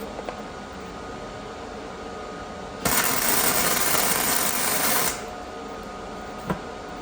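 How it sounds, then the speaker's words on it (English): A flux-core welder tack welds a bracket for a 12-volt alternator install on a 1951 Allis-Chalmers WD tractor, one loud crackling, hissing burst of about two seconds over a quiet machine hum, followed by a light tap; no talking. "just throw a couple of tacks on here. Tack this front one in place first"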